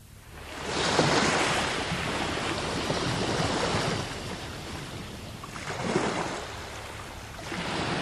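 Ocean waves roll ashore at the sea in Atami, a steady broadband wash of surf with swells cresting around the start and again near the end, breezy and fairly close, with no voices.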